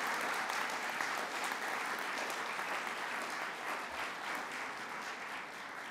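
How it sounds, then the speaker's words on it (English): Steady applause fills the room at an alumni achievement awards ceremony, a dense wash of clapping from a large audience that holds even and loud for several seconds. "one round of applause for that beautiful video"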